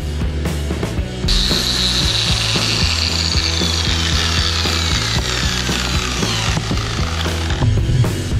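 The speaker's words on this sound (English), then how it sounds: "I got my money's worth out of that grinding wheel" An abrasive grinding wheel grinds steadily against a steel truck frame on a 4th gen Cummins, a loud continuous harsh whine with a sudden swell in intensity and rhythmic scraping passes, close and alone.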